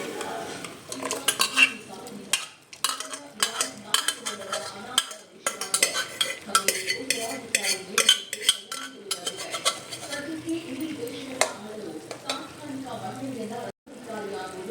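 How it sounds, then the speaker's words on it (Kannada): Mutton added to a pot for Savaji-style mutton sukka and stirred, with repeated metallic scrapes and clinks of a spoon against the vessel under a faint sizzle, while someone talks between the strokes. "ನಾನು ಮಟನ್ ಹಾಕ್ಕೊಳ್ತಾ ಇದ್ದೀನಿ ಈ ಪಾತ್ರೆಗೆ."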